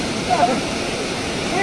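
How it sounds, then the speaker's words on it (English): Broadband rushing river water at a collapsed bridge crossing in Chulani, a steady continuous roar filling the short stretch, with faint voice-like traces near the start. "As you can see, the river come down."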